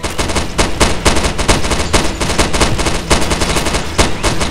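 Gunfire in the horror video game Primal Fears, set in a scary hospital: loud, close, rapid automatic shots in a steady, unbroken stream with sharp repeated bursts throughout.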